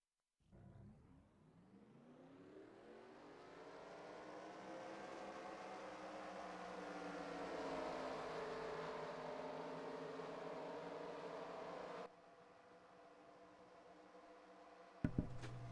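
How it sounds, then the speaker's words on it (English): Race car engines fire up together for a NASCAR-style Cup Series race at Atlanta in a racing video game, a steady droning roar of many engines that swells and holds with a rising whine, then steps down and ends in a short sharp knock. "Drivers, start your engines."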